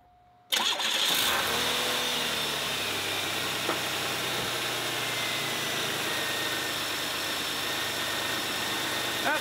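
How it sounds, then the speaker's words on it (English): A 1991 Oldsmobile Ninety-Eight Touring Sedan with a 3.8L engine after a minor tune-up, cranking briefly then catching and settling into a loud, steady idle that continues without a break, close by with no talking. "let's go ahead and fire it up"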